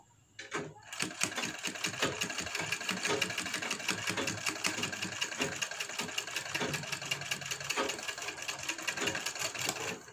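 Sewing machine stitching a matka-style blouse back neck design, a fast, even mechanical rattle running steadily and close after a brief start.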